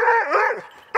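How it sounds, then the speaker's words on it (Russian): A search dog in a forest search exercise barks loudly and close by in one long, strained bark that tapers off, followed by the start of a second sharp bark. "Свой успех собака обозначает громким лаем."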